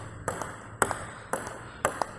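A table tennis ball struck on a Darker Speed 90 Hinoki blade, four crisp pings spaced about half a second apart, each followed by a softer bounce, close and clear with no voices.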